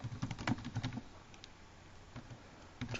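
Typing on a computer keyboard produces quiet, close keystroke clicks in a quick burst, then a pause, then a few more taps, with no talk.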